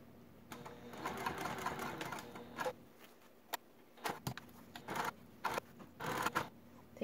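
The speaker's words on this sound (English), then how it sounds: "now I'm taking it to the sewing machine to sew around the edges" A sewing machine stitching around fabric edges at a stitch length of 4, its motor whirring in short bursts of rapid mechanical chatter separated by brief pauses, close and fairly quiet, no talking.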